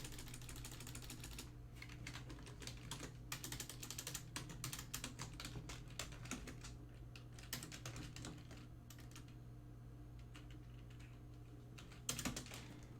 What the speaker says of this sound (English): I'm typing an answer to a question.